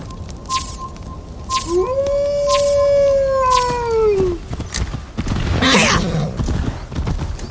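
Horse hooves clip-clop at a gallop in Assassin's Creed Valhalla, steady and close throughout, joined midway by a long, sweeping whinny and other tonal animal calls.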